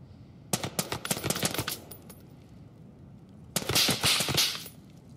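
Video game gunfire comes in two rapid bursts of sharp, loud shots, the first lasting about a second and the second starting after a quiet gap, with no talking over them.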